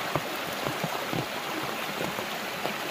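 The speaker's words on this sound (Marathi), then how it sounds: "नदी आलेली आहे" A river near the Patal Devi area flows in a steady, close rushing wash of water with a gurgling texture and no voices.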